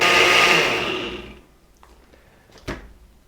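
A blender mixing hot pumpkin soup whirs loudly, then spins down and stops within about a second and a half, followed by a few small clicks and a knock.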